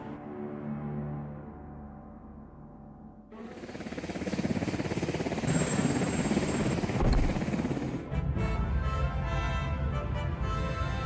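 Marine One presidential helicopter lifting off, rotor and turbine noise swelling abruptly into a loud, dense whir with rhythmic blade chop, holding steady as it climbs.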